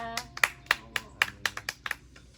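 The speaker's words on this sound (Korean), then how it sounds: "박수로 하나님께 영광 올려드립니다" At a Sunday worship service at Poiema Mission Church, a small congregation claps in a loose, uneven rhythm of about a dozen distinct claps, moderately close, with a soft low hum underneath.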